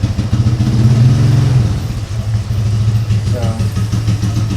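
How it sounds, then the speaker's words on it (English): A four-wheeler ATV engine runs steadily as it drives around outdoors, a low idling rumble with slight revving, loud and continuous with a person talking over it. "got my grandpa driving around on the 4-wheeler"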